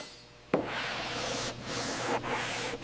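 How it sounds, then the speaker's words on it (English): Steady, broad rasping strokes of a long sanding board rubbing across aircraft fuselage panels, starting with a sharp contact and continuing in long back-and-forth passes. "Block sanding with long boards to guarantee dead flat surfaces without waves."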